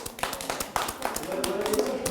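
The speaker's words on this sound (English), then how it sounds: "let me give you all a clap" A classroom of students claps hands together, a brisk patter of many overlapping claps, with voices talking over it.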